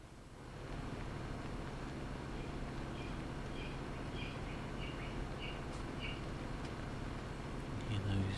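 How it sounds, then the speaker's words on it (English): Birds cheeping in Farming Simulator 17, a scatter of faint, short chirps over a steady bed of low farm ambience, joined by a voice near the end. "Birds cheeping, of course."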